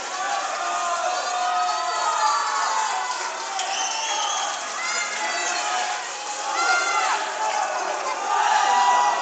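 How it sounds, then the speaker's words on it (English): Parents in a crowd at a high school boys' swim meet cheer and scream for a swimmer during a close race, a dense, sustained wall of shouting and whoops with rising bursts, heard close by in an echoing pool hall. "Ethan's parents standing up close to me here, screaming for Ethan to go."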